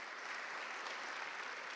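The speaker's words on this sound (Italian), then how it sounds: "Bravi ragazzi, un applauso a tutti" Steady applause from a church parish audience after a choir performance at a singing contest, a soft, even wash of many hands clapping at a distance.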